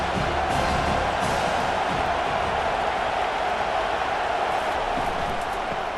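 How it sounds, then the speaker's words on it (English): Stadium crowd noise in the College Football 25 video game: a dense, steady roar of cheering fans at constant loudness throughout, with no distinct individual voices standing out. "This crowd knows when to bring it."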